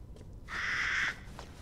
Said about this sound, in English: Look, if y'all little crows don't shut up